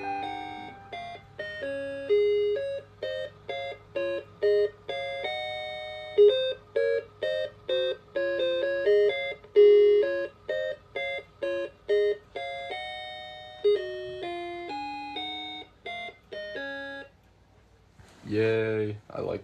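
Clock chiming as its alarm goes off, a long run of bright, evenly paced melodic tones close up, followed by a pause and a short burst of talk at the end.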